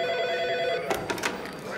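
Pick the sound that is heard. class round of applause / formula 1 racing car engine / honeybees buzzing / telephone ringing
telephone ringing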